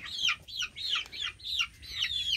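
Repeated bird calls in quick bursts, like chickens or chicks chattering close by, with a soft background hum.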